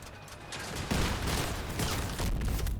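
Cicada rockets fire in a video game, a dense, continuous burst of loud explosive launches and impacts layered over each other for the whole stretch, with no talking.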